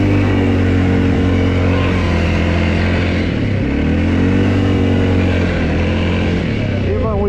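A 2023 Segway Snarler AT 5L or CFMoto X5 520 L ATV drifts with a loud, close engine drone that rises and falls in pitch as it revs, with a person speaking over the engine.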